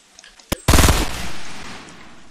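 Gunfire in Fortnite: a single sharp shot, then a loud, rapid burst of automatic fire that rings out into a fading tail, close and with no talk.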